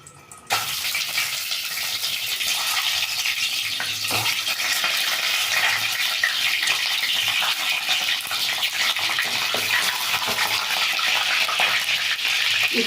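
Cut boiled egg pieces drop one by one into hot oil and fry, a loud, steady crackling sizzle with occasional soft taps and stirring clicks, no voices.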